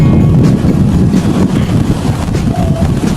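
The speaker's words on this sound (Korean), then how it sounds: "바람이 엄청나게 불어서 지금 막 가발이 날아갈 것 같아요" Strong coastal wind at Daewangam Park in Busan buffets the microphone as a loud, steady roar with low rumbling gusts throughout, and no one speaks.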